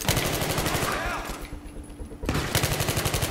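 Pistol gunfire in the video game Battlefield 3, rapid rhythmic shots in bursts at the start and end with a quieter gap between, loud and close, with voices under it.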